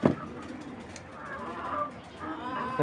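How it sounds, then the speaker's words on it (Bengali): A female racing pigeon cooing up close, soft low murmuring coos in a short stretch with faint background noise and no talk. "একটা মাদি কবুতর দেখাই"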